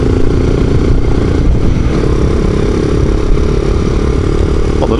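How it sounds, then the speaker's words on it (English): A small Honda motorcycle engine runs loud and steady while riding, a continuous noisy mechanical drone with clattery texture close up throughout. "Noisy little Honda, as it is known as now."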